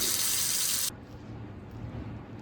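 Cold water runs loudly from a tap in a workshop with newly connected plumbing, a bright steady gush that cuts off abruptly after about a second, leaving a low background hum.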